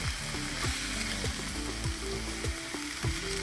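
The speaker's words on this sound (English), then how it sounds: "after the veggies get a little sauteed, which they are, you see the onions and the peppers getting a little brown" Onions and peppers sautéing in a pan for Jamaican-style oxtails, a steady close sizzle and crackle of frying with repeated scraping stirs of the vegetables against the pan.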